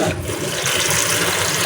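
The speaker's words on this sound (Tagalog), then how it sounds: "Dito na natin siyang hugasan para diretso yung tubig." Bitter gourd being rinsed under running tap water in a home kitchen, a steady gushing splash that holds at an even level for the whole short stretch, with no voices.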